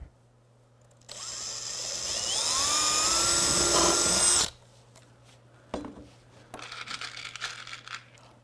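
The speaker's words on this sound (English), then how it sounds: "it wants us to drill 3 screws in a W shape" A power drill drives screws into a wood bumper with a loud whirring burst of several seconds, followed by quieter handling noises and a shorter second run.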